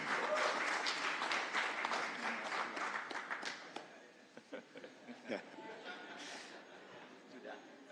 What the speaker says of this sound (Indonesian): Kita berikan tepuk tangan yang meriah buat Pak Ganjar Pranowo dan Prof. Mahfud MD.